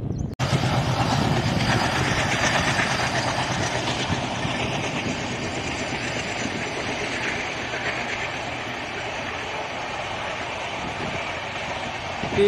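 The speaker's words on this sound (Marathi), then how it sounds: "ही एक्सप्रेस ट्रेन आहे" An express train running through farmland rolls past nearby, a sustained rail rumble with faint clickety-clack after a sharp opening knock, no talk.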